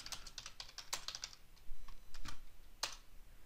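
Typing on a computer keyboard while answering a live web chat: quick, light clicking keystrokes in bursts of several, with short pauses, close and fairly faint.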